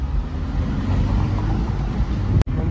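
A taxi drives through Mumbai, its engine a loud steady low rumble heard from inside, with road noise throughout and a brief dropout near the end.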